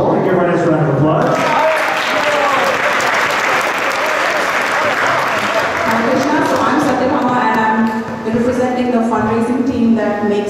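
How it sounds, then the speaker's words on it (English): Sustained crowd applause fills a festival launch day event for an annual Rath Yatra, loud and dense throughout, with voices and cheers mixed in and a brief dip near the end. "Give her a nice round of applause."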